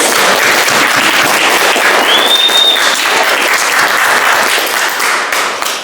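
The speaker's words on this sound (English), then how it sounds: "So let's have a round of applause for all of our writers." An audience at a student writing anthology event applauds the student writers with loud, sustained clapping and a short whistle partway through. The applause stays full for several seconds before starting to taper at the end.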